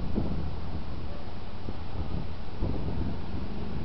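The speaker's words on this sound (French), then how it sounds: "Le vent est doux, petite douceur." Gentle wind blows outdoors as a steady, broadband rush, with small gusty swells and faint rustling underneath.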